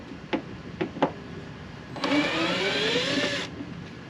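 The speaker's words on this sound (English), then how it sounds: "Let's get these screws off." Screws being removed from a Nissan 370Z while fitting Stillen side skirts, with the wheel off: three sharp clicks of a tool, then a loud steady whirring drive of a powered screwdriver for about a second and a half, close up.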